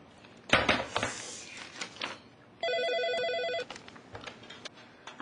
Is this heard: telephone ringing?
yes